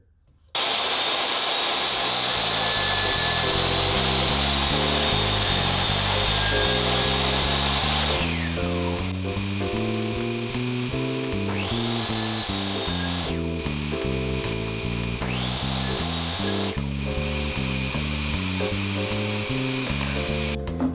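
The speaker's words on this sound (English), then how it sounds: "I'm gonna have to cut a little slot in it so that I can actually start the blade to raise it up through the insert." A DeWalt DWE7491 table saw spins up and its blade is raised up through a zero-clearance insert, cutting a slot; a loud, steady motor whine holds throughout with shifting tones as the blade bites in, no talking.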